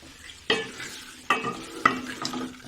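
Besan badiyan are stirred into a curry in a pan: three distinct spoon scrapes and knocks over a soft, continuous simmering sizzle.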